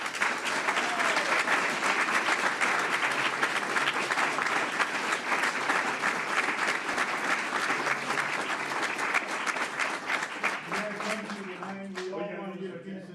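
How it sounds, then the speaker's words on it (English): Sustained applause from a school board meeting audience honoring students, a dense, even wash of clapping that runs for several seconds before tapering off as a voice begins talking near the end. "they definitely deserve a big round of applause and some recognition"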